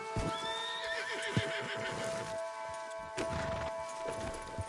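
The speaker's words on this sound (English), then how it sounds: "You need to get that horse under control." A horse in a PS4 video game neighs and whinnies over steady clip-clopping hooves and a constant background hum, with a sharp knock partway through.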